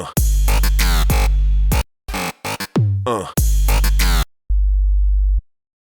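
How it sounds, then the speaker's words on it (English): Raw, unprocessed sine-wave sub bass plays alone as a string of loud, sustained low notes of varying length separated by short gaps, used as a bass line in a mix. "what I would want to do is leave this sine wave raw"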